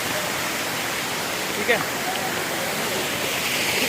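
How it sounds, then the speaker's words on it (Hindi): A natural mountain waterfall near Kedarnath temple in Uttarakhand gives a steady, dense rush of falling water, with someone briefly speaking over it. "बिल्कुल देखिए नेचुरल वाटरफॉल के नज़दीक"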